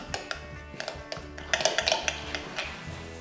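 A spoon stirs a marinade of grape vinegar and olive oil in a bowl, giving quick uneven clinks and taps against the bowl, close and fairly loud, with no one talking.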